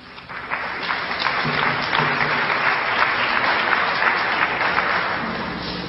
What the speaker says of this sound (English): Don't wait for me to ask you to applaud them.